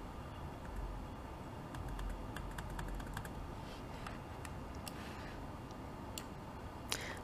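Soft, irregular clicking of keys on a computer keyboard over a steady low hum, with a sharper tap near the end.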